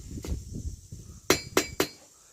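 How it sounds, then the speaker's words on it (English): A hammer strikes hot steel while a hook is forged, giving three sharp, ringing clinks in quick succession after a few softer knocks, near and loud, with no talking. "if you hook it underneath and hammer down from the top"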